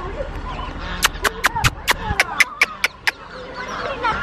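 Polish cap chickens and roosters at a bird park, with a rapid series of about ten sharp clucks or taps close by over low background murmur and faint voices.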